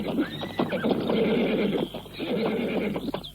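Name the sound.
horse neighing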